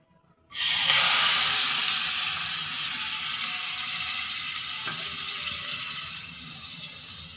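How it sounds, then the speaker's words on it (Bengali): Onion paste dropped into hot oil in a pan while cooking tilapia with potato and tomato, bursting into a loud, steady sizzle that starts abruptly and holds on, close and without talk. "এবার আমি তেল দিয়ে দেব। এখন দেব পেঁয়াজ বাটা,"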